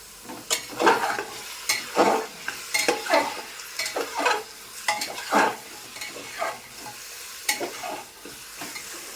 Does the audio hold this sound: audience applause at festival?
no